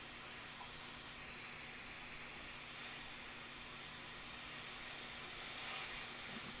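Airbrush hissing steadily without spraying, a faint continuous airy hiss with no break.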